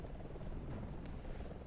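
A helicopter in a Roblox video game drones with a steady low rotor rumble, continuous and moderately loud throughout.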